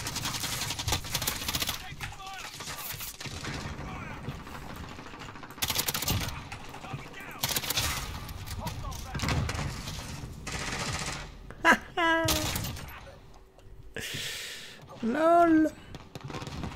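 M13 rifle fire in Call of Duty Modern Warfare (2019) comes in short, sharp bursts spread over the stretch, close and punchy, between quieter gaps, with other game effects mixed in.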